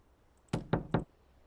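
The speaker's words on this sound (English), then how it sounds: "it's those knocking noises and what have you, they freak me out" Three quick, sharp knocks land close together in an evenly spaced burst inside the Wild West Dynasty video game, each a hard thud against near silence.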